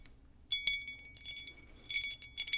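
A whiskey glass is handled up close, giving a few soft, bright clinks and taps in short bursts against a quiet background.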